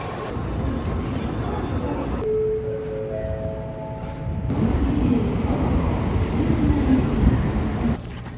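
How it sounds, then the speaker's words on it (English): A Japanese bullet train in motion gives a steady, close rumbling whoosh of the carriage interior, broken by a brief quieter stretch with a chiming tone, then the rushing hum returns louder. "We're driving with the bullet train!"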